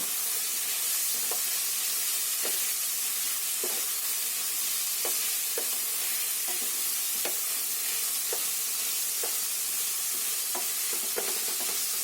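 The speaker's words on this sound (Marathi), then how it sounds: "प्रत्येक वस्तू टाकताना आपण अशी फ्राय करायची चांगली" Cabbage masala vegetables sizzle steadily in a hot pan, a constant close hiss broken by regular soft scrapes and knocks of a spoon stirring.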